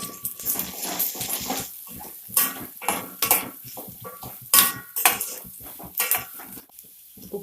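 Onion pieces go into a pot of egg curry pulusu on the stove, with repeated clatter and scrape of a utensil against the pot in a steady close rhythm and bursts of sizzling, no talk.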